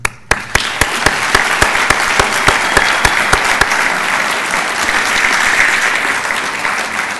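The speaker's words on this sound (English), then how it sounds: "And now a big round of applause for Ruth." A large audience at a Hall of Fame ceremony breaks into sustained, even applause honoring a woman named Ruth, a few sharp early claps swelling into a steady wash of clapping.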